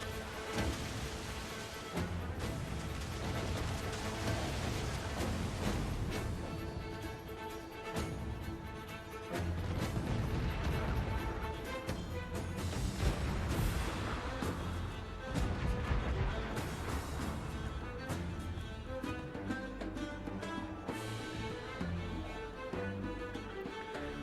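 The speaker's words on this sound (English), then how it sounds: "Mortar!" Mortar fire and cannon blasts from Assassin's Creed Black Flag, heavy booms and crashes over a dense, continuous wash of sea battle noise and music, loud throughout.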